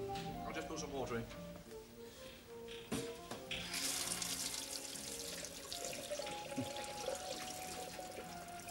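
Water runs from a tap into a sink, a gushing splash that starts partway through, while people talk nearby.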